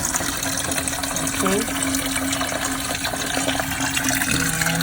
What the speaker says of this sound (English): I'm cleaning out the water line, letting the water line clean up.